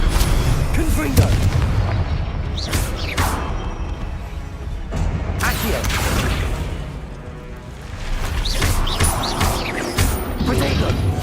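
Fiery blast spells and magical impacts from the Hogwarts Legacy wizard game crack and boom repeatedly over a dense, continuous battle din, with a voice shouting spell names throughout.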